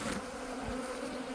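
Honey bees buzz steadily around an open hive during feeding with syrup and pollen patties, a dense continuous drone close to the microphone with no talk.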